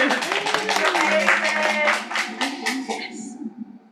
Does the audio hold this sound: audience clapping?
yes